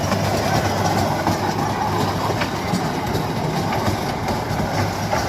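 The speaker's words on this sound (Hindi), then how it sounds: "ये कोन ट्रेन छियै यौ?" A train rolls past at a rural market in Madhubani, Bihar, with a loud, continuous rumble and rhythmic clickety-clack of wheels over rail joints, and no talking.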